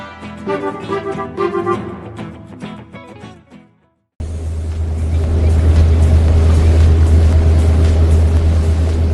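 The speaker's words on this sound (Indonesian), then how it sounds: "Lihatlah kapal tunda itu meluncur tenang di sungai." Music plays briefly, cuts out, then a deep, steady tugboat engine rumble on a river takes over and holds at a loud, constant drone.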